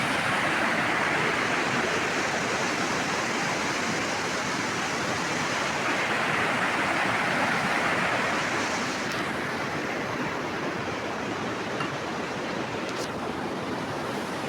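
A village river flows steadily in a continuous broadband rush of water, loud and close, with a slight shift in tone partway through and no voices.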